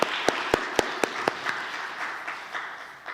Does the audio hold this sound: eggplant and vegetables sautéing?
no